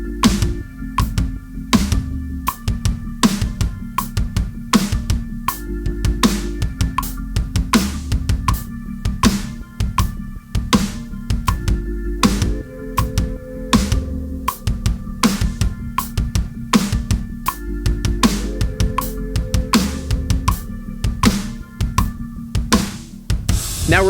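A drum groove exercise with bass drum doubles shifting by a sixteenth note each measure: a steady stream of crisp kick and snare hits with cymbals, tightly repeated and close.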